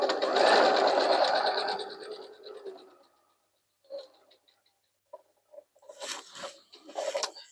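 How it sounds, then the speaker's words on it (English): A sewing machine stitching quilt pieces, a loud steady whir for about three seconds that then stops, followed by scattered faint clicks and short bursts of handling noise. "And on my machine, I'm ready to stitch."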